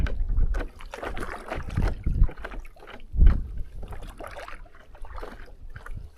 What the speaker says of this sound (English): Taking happy little paddle strokes.